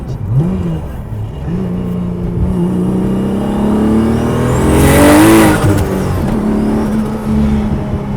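A turbocharged 700 hp BMW E36 engine revs loudly from inside the moving car at about 30% throttle, the pitch climbing to a roaring peak midway and then easing back to a steady drone.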